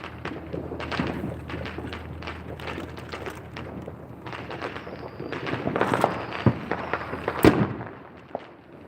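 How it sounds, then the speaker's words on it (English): Neighborhood fireworks and firecrackers popping outside a Las Vegas front yard on the Fourth of July, a dense rapid crackle of many small bangs, mostly mid-distance, with a few louder sharp reports near the end. "we don't have to buy fireworks. They do it for us."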